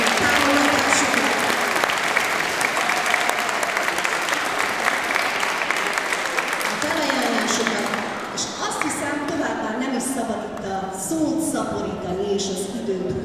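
A school carnival show audience claps loudly and steadily, dense applause that thins toward the end with a few scattered claps, a voice speaking over it.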